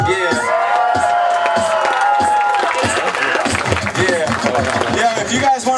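A live crowd at a 2004 hip-hop show cheers, whoops and claps loudly and continuously, a dense roar of voices filling the room with scattered shouts rising above it.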